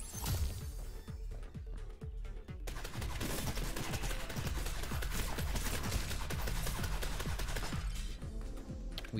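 Gunfire crackles in the Neon Abyss video game as rapid bursts of shots come in clustered volleys, sparse at first and then heavy and sustained through most of the stretch.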